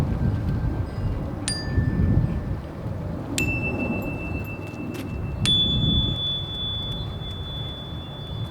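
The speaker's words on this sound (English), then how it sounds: "listening carefully for my chime" A chime rung during a children's yoga session sounds three clear, ringing tones, each struck a couple of seconds apart and left to sustain, over a soft, rumbling background.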